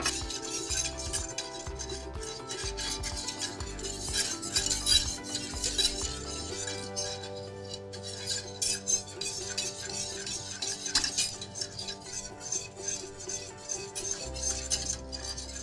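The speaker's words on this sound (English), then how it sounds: "We gotta constantly stir this." Utensil clinking against a bowl or pan while a soufflé mixture is stirred continuously, a steady run of small metallic taps and scrapes over a low background hum, fairly close and moderate in level throughout.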